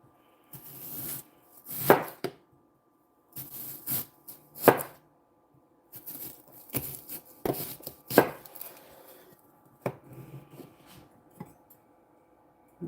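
A knife chops through an onion on a cutting board in a run of sharp, close thuds, some strokes grouped in bursts and others spaced apart, with brief pauses between them and no voices.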